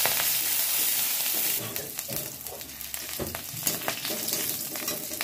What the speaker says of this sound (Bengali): এই রসুনটা দিয়ে দেবো। সাথে দিয়ে দেবো চেরা লঙ্কা। এটাকে ভালো করে নেড়ে নেব।